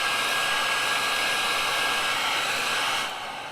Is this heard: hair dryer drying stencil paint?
yes